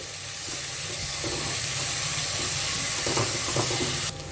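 Chopped onions with salt fry loudly in a hot pan, a constant close sizzle and steamy hiss with occasional stirring clatter, cutting off abruptly near the end.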